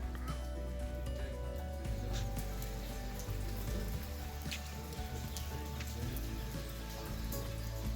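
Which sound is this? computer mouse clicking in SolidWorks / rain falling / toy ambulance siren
rain falling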